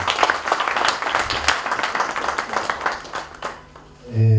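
Audience applause at a medical centre gathering, a dense wash of clapping that runs for about four seconds and fades, with a brief low voice or tone rising at the very end.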